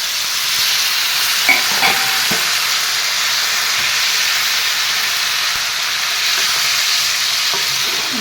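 Cauliflower and potatoes being stirred and fried in a pan for fish curry, a steady sizzling hiss with occasional soft scrapes of the spoon, close and continuous without any talk.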